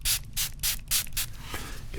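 Bursts of perfume or cologne spray in a perfume store setting, four or five quick hissing spritzes in a row followed by softer rustling, close and quiet, with no talking.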